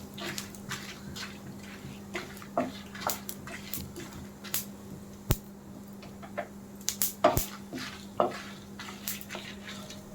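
Dried red chillies and sesame seeds dry-roast in a pan, with a faint crackle running under repeated scraping and tapping of a spatula against the metal and no voices.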